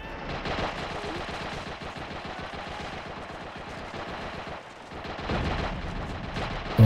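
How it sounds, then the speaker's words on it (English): Sustained machine gun fire in Men of War: Assault Squad, a dense rapid stream of loud cracking shots that runs almost unbroken, with a brief lull before resuming. "Got the machine gun."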